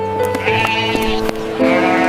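A goat from a livestock market bleats in loud, drawn-out wavering cries, close by, with a steady background drone and no clear talk.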